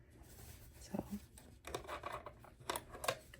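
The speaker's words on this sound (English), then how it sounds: "I'm going to come in with my" Several short crisp snips of scissors cutting, spaced irregularly over a faint background hum.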